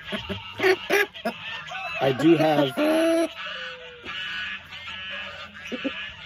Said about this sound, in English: It's like the geese know when I'm on the phone or when I'm recording. They make it a point to be extra loud.